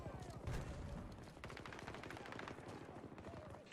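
Rapid automatic gunfire from the Battlefield shooter video game, dense bursts of rattling shots running continuously, with a voice faintly under the firing.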